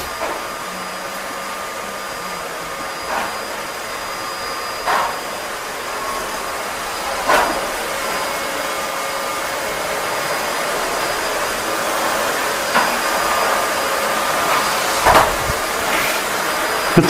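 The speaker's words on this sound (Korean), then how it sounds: "청소기를 너무 대충 돌려?" Vacuum cleaner running indoors, a loud, steady high-pitched motor whine that drones on throughout, with occasional brief bumps and knocks as it is pushed around, and no talking over it.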